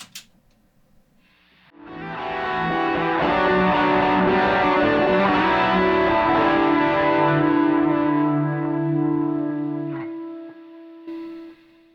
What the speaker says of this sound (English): This is what was printed through a hot tone amp, and it sounds really cool.